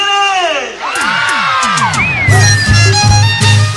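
Women in a live cumbia music audience let out high, whooping shouts and screams that rise and slide over one another, loud and close, while a bass beat pulses underneath.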